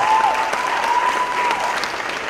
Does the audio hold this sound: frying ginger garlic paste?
no